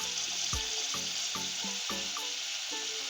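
Seasoned potato fries frying in hot oil, a steady loud sizzle punctuated by rhythmic stirring knocks and bubbling bursts, close up with no talking.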